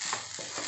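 Beef fried rice being stirred in a hot pan over high flame, a short burst of scraping and gentle sizzling with no voices.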